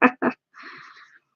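Two short, sharp bursts from a person's sneeze, heard close, followed by a softer breathy hiss as the sneeze trails off.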